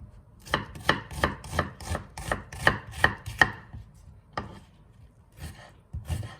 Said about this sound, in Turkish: Soğanımı doğruyorum